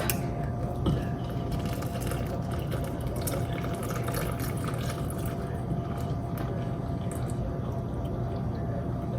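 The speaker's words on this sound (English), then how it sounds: "we are going to add to it 3 cups of cold milk." Cold milk being poured into a pot on a stovetop for a homemade chocolate pie, a steady close liquid stream running for several seconds over faint kitchen background.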